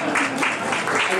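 An audience at a retirement party applauds in a short burst of steady clapping, close and fairly loud, with a voice faintly underneath.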